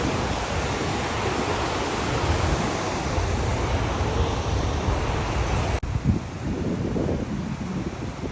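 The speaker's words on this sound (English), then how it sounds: "we are at a waterfall." A waterfall in Iceland roars as a constant, dense wash of falling water, loud and near, with a sharp knock partway through and wind buffeting the mic.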